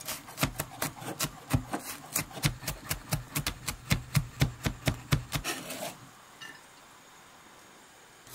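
A knife minces garlic on a cutting board, chopping rapidly and steadily in a brisk even rhythm of sharp taps that stops abruptly, leaving quiet.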